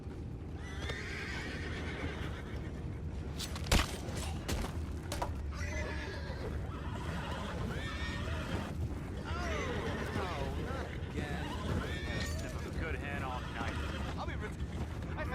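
Horses whinny and hooves clip-clop in Red Dead Redemption 2, with neighs rising over steady trotting and wind, and brief talk nearby.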